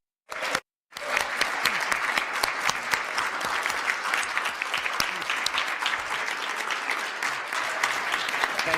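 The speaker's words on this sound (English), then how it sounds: "let's give him a big round of applause and thank him for his service" Committee meeting audience applauding the outgoing chair at the end of his tenure, dense sustained clapping from many hands that starts after a brief pause and holds steady throughout.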